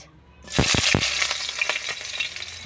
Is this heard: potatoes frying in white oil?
yes